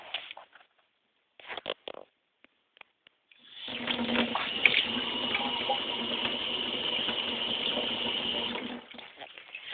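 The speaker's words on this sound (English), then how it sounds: "Running water. How cool is that?" Water runs from an indoor tap in a house, a steady close rush that starts after a few seconds of near silence and brief small knocks, then continues evenly for about five seconds before cutting off.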